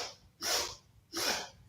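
Quick, close sniffs in through the nose during a children's yoga breathing exercise, short breathy bursts spaced evenly apart in a quiet room.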